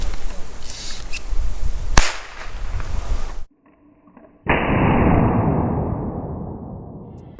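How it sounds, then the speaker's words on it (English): An airsoft impact grenade fires eight ring caps at once. Sharp, loud cracks ring out over noisy surroundings, then a sudden silence, then another burst of hissing, crackling noise that slowly fades. "They produce about the same level of volume as the bang snaps since it fires all 8 caps at once"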